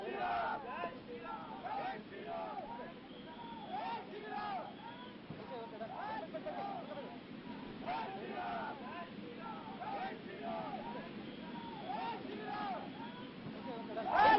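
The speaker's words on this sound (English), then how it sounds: "Chaos, huge crowds there." A huge crowd protests outside a court against suspended BJP MLA T Raja Singh, a steady roar of many shouting voices with repeated chant-like surges, near and continuous throughout.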